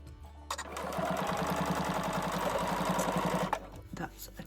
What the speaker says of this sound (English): you're going to stitch again along that same line